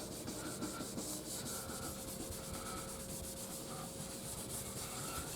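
A rag rubs polishing compound in steady swirling strokes over a Mojo Strat guitar body, a soft continuous scrubbing close up, with no talk.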